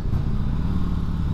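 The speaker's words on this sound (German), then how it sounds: "Oh, ich liebe das Motorrad jetzt schon, ey." Motorcycle engine idling or running steadily close by, a continuous low rumble with dense rhythmic low-end pulses and no talk over it.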